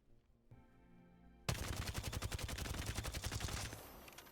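Rapid automatic gun firing in Apex Legends: a loud, dense, evenly paced burst of shots that bursts in suddenly after a quieter stretch and keeps hammering for over two seconds before cutting off.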